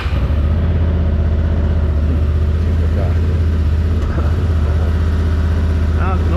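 A Honda Transalp 750 motorcycle engine idles steadily up close, a loud, even low rumble with a slight occasional chug, uninterrupted throughout.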